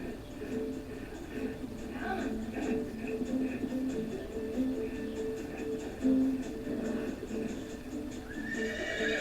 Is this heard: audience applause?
no